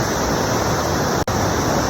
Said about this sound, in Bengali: সারা রাত এই পাহাড়ি নদীর শব্দ পেয়েছি